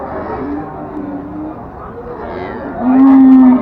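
Cattle moo loudly nearby at the Ambari cattle market in Dinajpur, a long low bellow near the end, with murmured voices and market bustle in the background.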